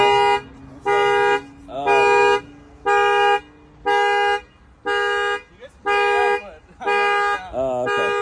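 A car horn sounds in about eight short, evenly spaced honks, each lasting roughly half a second, triggered from a key fob. Someone talks briefly in the gaps between honks.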